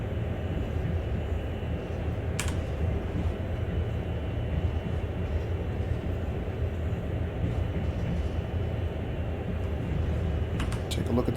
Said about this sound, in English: We got another train coming up in the opposite direction here.